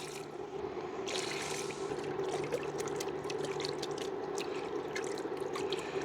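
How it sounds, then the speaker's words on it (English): Beef broth pours into a pan in a steady liquid stream, with soft trickling and splashing at moderate level and no voices. "Adding in 3 cups of beef broth."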